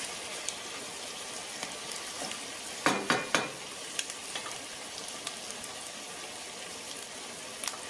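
Onions frying in a pan, a steady close sizzle throughout with a few louder scraping stirs in a quick cluster and light clicks scattered across, no voices.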